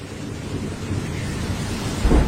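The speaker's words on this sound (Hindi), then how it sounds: "बाहर बहुत तेज बारिश हो रही है" Heavy rain pours steadily in a cartoon scene, a dense continuous wash with low rumbling thunder building near the end, loud and close, with no one talking.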